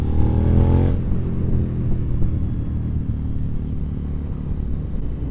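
A 2017 Suzuki SV650 motorcycle engine runs in fifth gear at about 73 km/h, a loud, continuous rumbling drone that is briefly more tonal at the start, then settles into a rough, steady roar.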